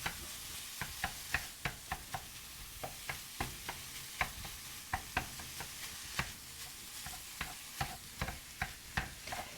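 Lean hamburger meat browning in a pan, stirred with a utensil: a soft sizzle under a steady run of sharp scraping clicks and taps, roughly two per second, close and fairly quiet, no talk.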